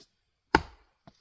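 A Gränsfors Bruk axe strikes wood set on a chopping block, giving one sharp, loud chop with a short ringing tail, followed by a faint small knock.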